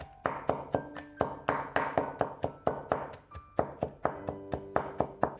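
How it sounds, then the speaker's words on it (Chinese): A cleaver-style knife rapidly minces garlic on a wooden board, a quick run of sharp, close thunks, roughly four per second, keeping a steady rhythm throughout. "再用刀剁一剁，剁成细蒜末。"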